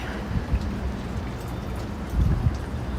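Steady rain falling on a Brooklyn street in Williamsburg at night, a constant hiss of drops on pavement with a couple of heavier thumps, close and fairly loud.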